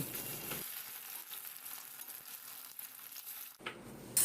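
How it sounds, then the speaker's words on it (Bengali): Paneer pieces fry in hot oil with a steady, dense sizzle that holds the whole stretch, briefly dipping and swelling again near the end. "তেল গরম করে পনিরগুলো ছেড়ে দিলাম দু পিঠ লাল করে আমি ভেজে তুলছি"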